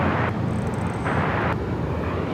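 A Delta Airlines jet departing Los Angeles International Airport: a steady, loud broadband engine roar that fills the whole clip without letup, with no voices present.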